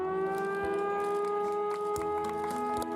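A siren at a road inauguration ceremony in Pangkep, South Sulawesi holds a steady, droning multi-tone wail throughout, with faint clatter and crowd noise beneath it.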